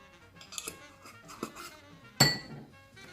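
Utensil mixing softened butter, brown sugar and cinnamon in a bowl, with faint scraping and soft knocks followed by one sharp, ringing clink near the end, close and quiet.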